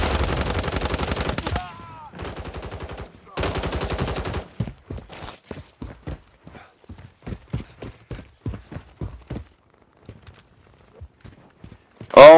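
Rapid automatic gunfire in the video game Call of Duty, long sustained bursts early followed by a string of quicker separate shots and short bursts, loud and close, ending in a final burst.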